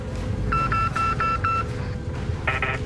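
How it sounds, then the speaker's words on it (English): A run of five evenly spaced electronic phone beeps from a bunker Easter egg in Call of Duty Warzone, followed after a pause by a denser, higher chirp, all over a low ambient game hum. "a series of beeps indicating that you are correct"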